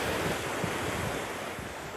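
Surf and strong wind at Momo Beach in Panglao, Bohol, roar as a continuous broadband wash with heavy wind buffeting the microphone, loud and close, with no voices.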